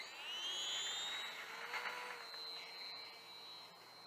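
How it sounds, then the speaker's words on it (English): The small electric motor of a Sport Cub model airplane whines upward in pitch at takeoff, a thin steady hum that fades a little as it climbs away, with no voices. "to my Sports S Cub, and we're going to take off"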